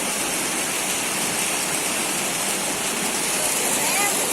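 A waterfall and its cascades roar in a steady, dense wash of falling water, loud and close throughout with no breaks.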